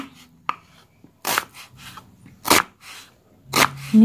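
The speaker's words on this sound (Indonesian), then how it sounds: "memotong bumbu" A knife chops spice ingredients on a board for an Indonesian stir-fry of anchovies, tofu and papaya leaves, giving three or four sharp, separate chops close by with quiet pauses between them.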